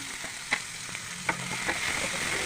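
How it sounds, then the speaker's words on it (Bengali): Chopped garlic and onion fry in hot oil in a pan with bay leaf and whole spices, giving a faint, steady sizzle broken by a few light stirring clicks. "রসুন কুচিগুলো দিয়ে দিলাম। পেঁয়াজ কুচি ওগুলো অ্যাড করে দিলাম"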